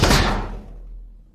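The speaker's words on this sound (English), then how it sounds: "Then he throws the hissing snake into the safe and closes the door." A heavy safe door swinging shut in a dramatized story, one loud close thud whose low rumble fades over about a second, alone without speech.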